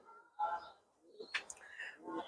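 Pigeons coo in soft, rounded bursts with a few brighter chirps mixed in, close by and fairly quiet, with short pauses between the calls.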